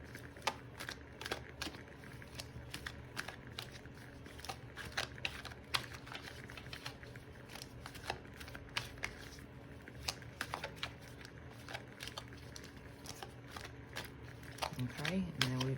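Cards are shuffled in rapid riffling bursts of soft papery clicks and flutters, close and fairly quiet, repeating steadily throughout.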